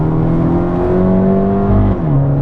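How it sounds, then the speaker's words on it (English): A 2015 Fiat Abarth revs through a rev-matching downshift: a steady engine drone with a quick blip that rises and then settles to a lower pitch, loud and close. "rev matching downshift."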